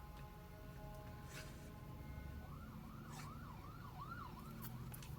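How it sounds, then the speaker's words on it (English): A faint, distant siren wails up and down in a rapid oscillating pattern behind a low, steady background rumble. "Oh, of course we have to have a siren."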